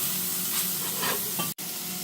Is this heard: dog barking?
no